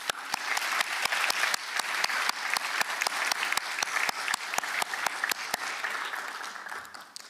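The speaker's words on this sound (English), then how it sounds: "Please join me in a round of applause." Audience applause at a commencement ceremony, a sustained, even round of clapping from a large crowd that fades slightly toward the end.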